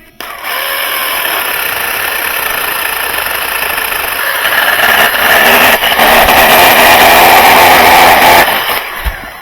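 A WILD BADGER 40V cordless pole saw runs its chain through a leaning tree, a steady close whine that grows louder and rougher midway as the cut bites deeper, then drops off near the end.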